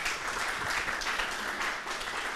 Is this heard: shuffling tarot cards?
no